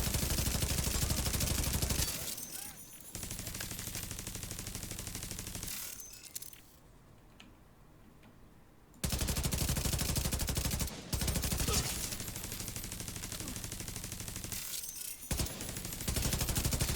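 Automated turret gunfire in the video game The Division 2, long rapid bursts of automatic fire filling most of the stretch, broken by a few short pauses and one longer lull before shooting resumes.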